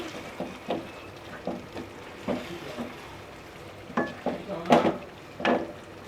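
A spoon stirs biryani ingredients in a cooking pot. Soft, irregular scraping and clinking strokes come every half second or so, close by and moderately quiet, with no talk.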